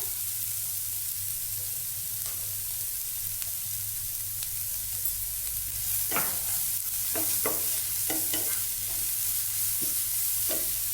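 Grated carrot and oats are sautéed in a pan, a soft steady sizzle under a low hum, with a cluster of scraping spoon strokes stirring the food in the second half.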